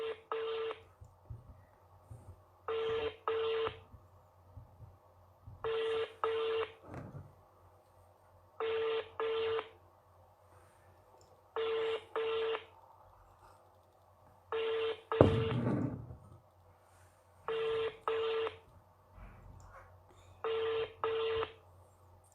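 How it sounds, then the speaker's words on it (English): Telephone on an outgoing call, sounding a repeated pattern of paired electronic ringback tones in evenly spaced bursts, fairly quiet, with faint background rumble and a brief thump midway. "This phone is ringing."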